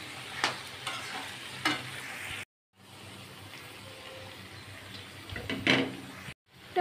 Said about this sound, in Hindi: चिकन के साथ टमाटो अच्छी तरह से मिक्स करके और भी 10 मिनट तक लो फ्लेम में इसे फ्राई कर लूँगी।